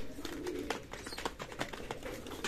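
Pigeons gathered for a winter morning feeding with warm water, a busy stream of coos and rustling from many birds close by, steady and continuous without voices.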